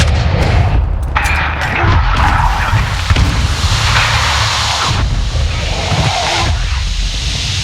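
Loud, sustained automatic gunfire from Call of Duty MW2 Warzone, a full magazine unloaded in dense bursts with heavy booms and a constant roaring wash, while a voice talks faintly underneath.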